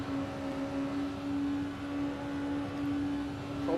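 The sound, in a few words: LMP race car engine in a racing video game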